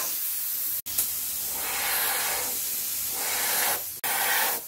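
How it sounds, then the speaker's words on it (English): Close-up hissing bursts from a spray can of primer on 2009 Harley FXSTC bodywork, several long sprays separated by brief pauses, each starting with a sharp click of the nozzle. "So make each spray progressively smaller."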